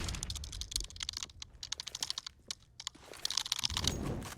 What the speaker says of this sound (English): can you stop typing in the Twitch chat?